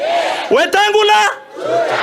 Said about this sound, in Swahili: Wapi makofi ya Wetangula?